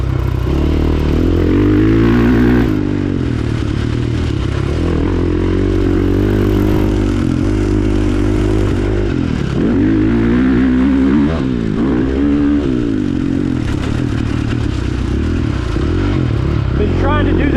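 A 2022 KTM 450 SX-F Factory Edition motocross bike held in third gear on a dirt track, its engine drone loud and continuous with rising and falling revs under wind noise.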